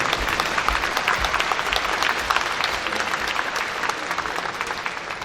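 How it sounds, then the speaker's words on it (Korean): Sustained applause from an audience at a book launch event for a National Assembly member, steady and dense clapping filling the room for several seconds without a break. "정세균 의장님 수고하셨다고 박수 한번 더 보내주셔야겠네요"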